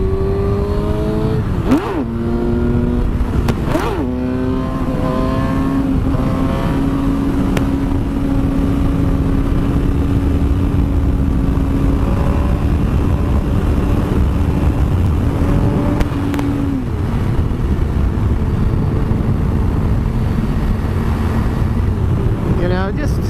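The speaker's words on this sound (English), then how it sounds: "I'll ride up here to this sign. So we'll kick her down into third like I normally do." Suzuki GSX-R 750 sport bike accelerating hard on a road, engine winding up through the gears with a sharp shift, then holding a loud steady high-revving drone, close and continuous throughout.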